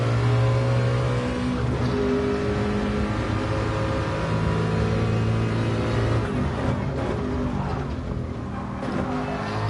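Race car engine in the GT Sport video game on the Bathurst circuit, droning steadily at high revs for the whole stretch, loud and close with shifting pitch and no talk over it.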